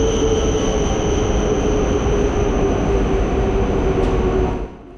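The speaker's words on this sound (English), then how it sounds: "Our train pulls in around 15 minutes before scheduled departure." A JR East Shinkansen E5 high-speed electric train pulling into a station, with a loud, steady rumble, a sustained wheel or motor whine, and the noise dropping away sharply near the end.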